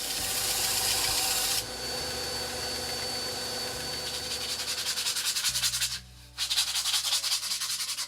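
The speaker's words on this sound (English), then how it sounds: "I'm just going to sand down the edges here a little bit, kind of smooth it up" Steady rasping sanding of the edges of wooden puzzle pieces runs throughout with a mechanical hum, shifting to a rhythmic scraping pulse toward the end.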